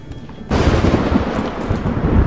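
Thunderstorm in the video game The Witcher 3: after a quieter half second, a heavy, sustained roll of thunder with rain noise rushes in loudly and rumbles on steadily without speech.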